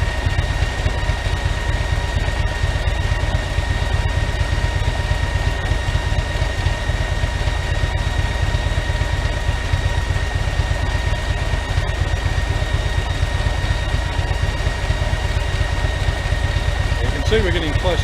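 A Harley-Davidson V-twin idles steadily, a loud low continuous thumping throb with a faint constant high whine from cooling fans running alongside, no talk.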